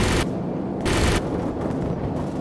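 Gunfire in the video game Call of Duty 4: loud, sustained bursts of rapid shots roll together into a dense, continuous barrage with a few sharper surges.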